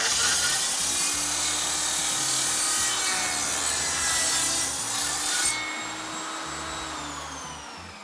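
A table saw on a crosscut sled cuts through a wood piece with a loud steady whirring roar and gritty cutting noise. The blade winds down after the cut.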